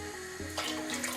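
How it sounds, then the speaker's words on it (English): Water runs from a tap into a pot of Portuguese-style fish soup in a steady, splashy, close pour that grows brighter partway through, with no talking. "I'm adding just a little bit more water."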